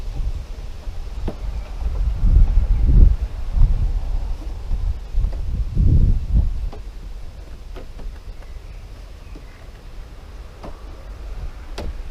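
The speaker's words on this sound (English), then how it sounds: "as it is quite windy today" Gusty wind buffets the microphone outdoors beside a Triumph Sprint ST1050 motorcycle, with low rumbling surges, rising strongest in the middle, alongside faint intermittent ticking sounds.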